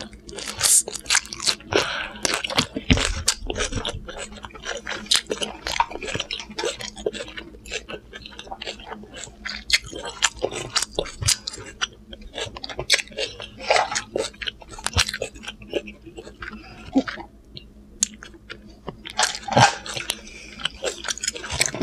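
Close, crunchy chewing of salad with banana peppers, with repeated bites and moist mastication sounds over about twenty seconds during a seafood eating session, loud and near throughout.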